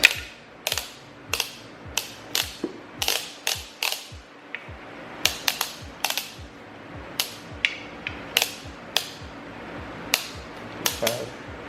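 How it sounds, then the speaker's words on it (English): Sharp, evenly spaced mechanical clicks from a torque wrench tightening M8 bolts to 26 lb-ft in the engine bay of a JDM Toyota Supra, about twenty crisp snaps in quick bursts, close and loud over a quiet workshop background. "We'll get the torque wrench set up."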